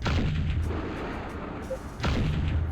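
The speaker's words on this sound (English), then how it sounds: "Mortar. That will handle it quite well." Mortar fire in the video game Battlezone: Combat Commander: two heavy booming launches about two seconds apart, each with a rumbling tail, loud and close.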